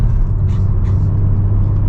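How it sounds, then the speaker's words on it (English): A 2025 BMW M4 Competition engine pulls under mild acceleration at cruising speed, a steady, loud low drone and rumble that holds even throughout without talk. "a mild acceleration, we're already up to speed"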